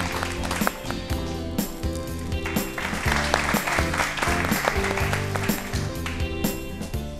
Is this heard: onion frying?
no